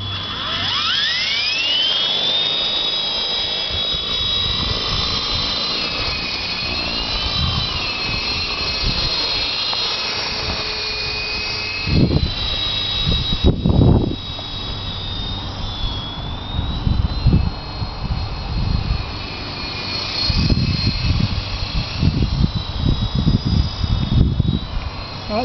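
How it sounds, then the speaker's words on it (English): A WLtoys V913 RC helicopter with new brushless motors whines steadily as the tail motor starts and the main motors spin up toward full throttle, a loud high-pitched electric drone with rising pitch and some handling knocks. "now so far the tail motor starts up and about an eighth of a way on the throttle the main motors will start."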